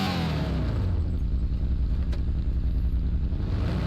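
Steady engine drone and road rumble from a fast car driving through an American city in a mobile racing game at night in rain and snow, continuous and fairly loud with no voices.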